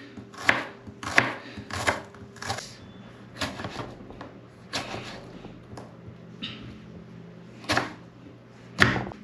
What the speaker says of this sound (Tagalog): Tapos yung kamatis atin na pong hiwain.